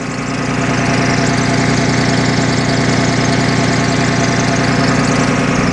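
A 6.7-liter Cummins ISB diesel with an Allison 2500 PTS transmission idles steadily in a 2008 Thomas C2 school bus, a loud, close, even rumble with a constant clattering diesel rhythm and no talking.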